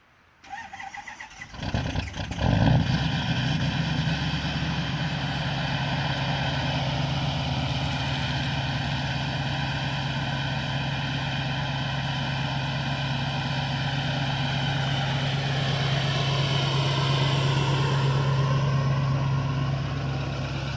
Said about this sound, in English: I'm gonna do a cold start video on my truck for you guys.